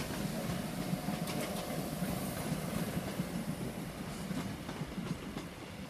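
Greater Anglia class 321 electric unit 321303 arriving at Peterborough station: a continuous rumbling roll of train wheels and carriages with faint clatter and squeal, steady and moderately distant throughout.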